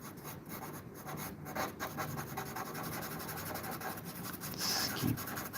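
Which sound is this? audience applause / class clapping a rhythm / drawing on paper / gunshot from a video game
drawing on paper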